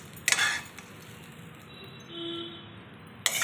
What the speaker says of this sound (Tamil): நம்ம ஒரு பவுலுக்கு அதை ட்ரான்ஸ்ஃபர் பண்ணிக்கலாம்